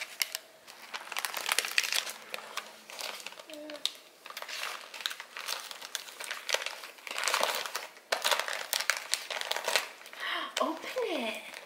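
A one-year-old tears open a birthday present wrapped in woodland-animal paper, making bursts of crinkling and ripping that come and go over several seconds at close range.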